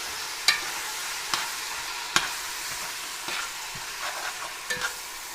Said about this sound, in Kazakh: Етімізді әбден қуырып аламыз